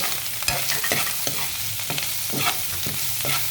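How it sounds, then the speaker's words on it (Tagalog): Ingredients seasoned with black pepper stirred in a frying pan, a close rhythmic scraping of the utensil roughly every half second over a constant sizzle, with no voices. "Halo-haloin po natin."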